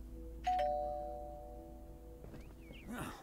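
A doorbell in the video game Lake gives a bright two-tone chime that rings out clearly and slowly fades. A brief voice and soft game sounds follow near the end.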